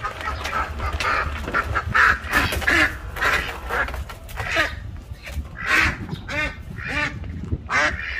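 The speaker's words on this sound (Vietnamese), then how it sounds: "còn đây là chú vịt mái các bạn này" A female duck quacks repeatedly in a rural yard where ducks are being bred, with bursts of loud, raspy calls coming close and often over about eight seconds, and no talking.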